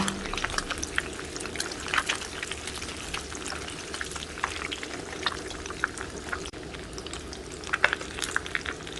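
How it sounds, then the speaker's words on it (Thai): Mackerel frying in a pan gives a steady, dense crackle and sizzle that runs unbroken from start to finish, with small pops scattered throughout and no voices. "ขั้นตอนนี้เราก็จะทอดปลาทู ให้สุกก่อนค่ะ"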